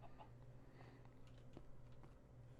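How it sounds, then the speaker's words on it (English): A chicken clucking in the Minecraft modpack Ragnamod, faint soft clucks set against a steady, low background hum. "I still hear that chicken"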